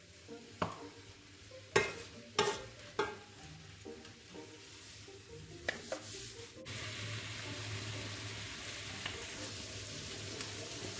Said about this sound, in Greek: Τα αφήνουμε λίγο να τσιγαριστεί και βάζουμε μέσα το κρεμμύδι.